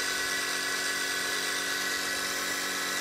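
A spindle motor on a 2x72 belt sander build bench test runs steadily at 6,000 RPM, quarter speed, giving a constant high-pitched whine with a hum beneath it, close and unbroken, with no voices.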